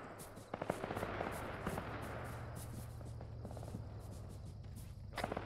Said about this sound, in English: we're hearing sporadic gunfire to our west